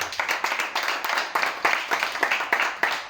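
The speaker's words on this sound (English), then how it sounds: "So you can give yourself a round of applause." An audience at a motivational talk claps together, a dense patter of hands with distinct individual claps, steady and fairly close for a few seconds.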